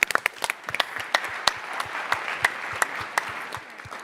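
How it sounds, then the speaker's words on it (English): Scattered audience applause at a Startup Battlefield 2023 pitch session, with sharp individual claps standing out over a thin, moderate patter that stays fairly even for a few seconds. "Give them a round of applause."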